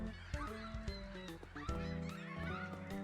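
Seagulls squawk loudly in the video game Waterpark Simulator, a rapid run of harsh, honking cries that overlap and repeat close up for the whole stretch.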